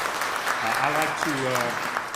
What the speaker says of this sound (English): And give yourself a round of applause.